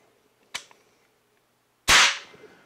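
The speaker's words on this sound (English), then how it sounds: "To fire the gun, you're going to aim it at your intended target, release the safety, and pull the trigger." A Hatsan AT44 Tactical air rifle fires once, a sharp loud crack followed by a short decaying ring, preceded by a fainter click about a second earlier in an otherwise quiet setting.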